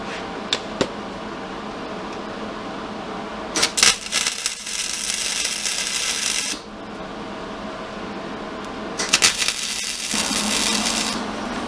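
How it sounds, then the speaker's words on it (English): A nut being welded onto a steel handle: two sustained bursts of crackling, hissing arc noise, each a few seconds long, preceded by a few sharp metallic taps. "We'll get this nut welded on here."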